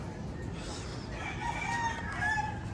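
Chickens in a coop, with a rooster crowing twice over steady hen clucking and background noise, close by and fairly loud.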